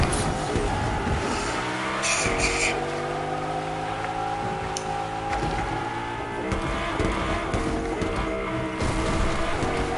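Engine drone of a car driven in the video game Fortnite, a steady mid-level hum with shifting pitch and brief tire-skid noises, continuous for the whole stretch with no talk over it.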